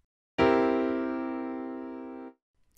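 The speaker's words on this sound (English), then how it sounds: "A dominant 7th chord sounds like this." A dominant 7th chord struck once on a keyboard instrument, ringing loud and sustained for about two seconds before being cut off cleanly, with no voices.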